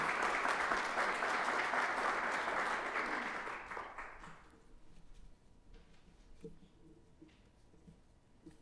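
Audience applause welcoming a speaker at a lecture on independent regulatory agencies and the Constitution, steady and full for about four seconds before fading into a quiet room with faint shuffling.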